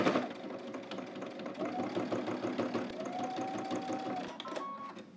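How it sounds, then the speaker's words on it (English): A sewing machine stitches collars in place across a garment, its needle giving a fast, steady mechanical chatter that runs continuously and close by, then slows briefly near the end. "we're going to start on one side and stitch all the way across to the other side"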